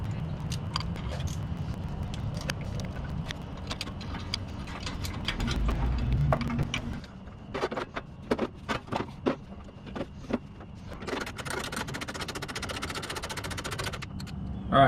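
Bolts go back into a billet alternator clamp on a classic Volkswagen, tightened with a 5mm Allen wrench, making a run of small close metallic ticks and clicks, sparse at first and then quicker.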